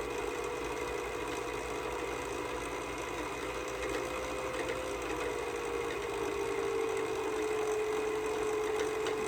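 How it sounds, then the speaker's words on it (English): An electric sewing machine runs steadily while winding thread onto a bobbin, a continuous motor hum and whir with a faint rising tone, moderate in level and without speech. "press the foot slow, and it's gonna start filling your bobbin"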